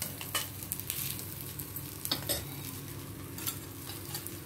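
Onions, including green onions, fry in a pan for a masala roll and are stirred. A steady, close sizzle runs throughout, broken by intermittent scraping and clinking strokes of the utensil, and no voices.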